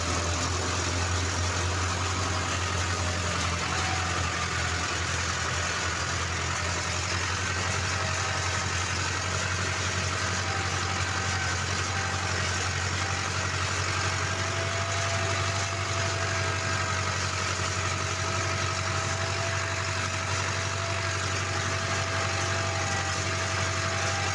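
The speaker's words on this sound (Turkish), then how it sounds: "Traktörümüz tek çeker olduğu için biraz zorlanıyor." A steady, low-pitched Steyr 8073 tractor engine drones continuously, straining under load while pulling a heavy 15-tine tiller through hard soil, a constant heavy rumble with no pauses and no voices.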